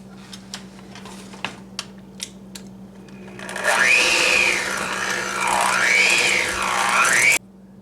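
Electric hand mixer beating cream cheese and butter together, starting with a few light taps and then running loudly and steadily for about four seconds with a wavering, rising and falling whir before stopping abruptly.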